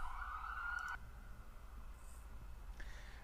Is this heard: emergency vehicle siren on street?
yes